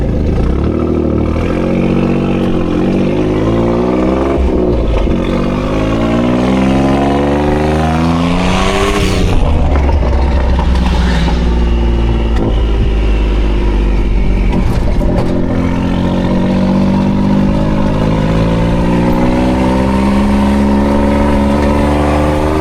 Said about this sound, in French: Là on va tester d'abord le véhicule